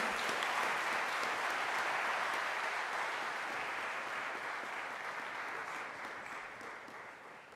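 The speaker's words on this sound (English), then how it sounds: "Let us clap for him as he comes in." An audience at a university student recognition ceremony in Nairobi claps to welcome the vice chancellor, a loud, sustained, thick burst of applause that tapers off gradually toward the end.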